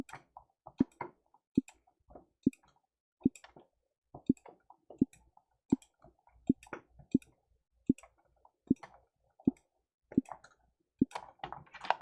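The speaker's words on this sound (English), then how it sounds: "My mouse actually bonked into the keyboard I have there." Sharp plastic clicks of a computer mouse during aim training, a dozen or so fairly regular taps spaced about a second apart with a few softer knocks of the mouse bumping a keyboard, close and dry with no talk.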